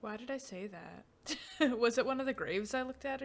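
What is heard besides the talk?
No everyday noises stand out.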